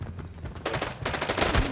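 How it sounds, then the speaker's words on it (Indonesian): Gunfire rattles in the video game Arena Breakout, several quick bursts of shots crackling one after another in the middle distance, growing louder toward the end with no talk over them. "Tuh suara tembakan tuh."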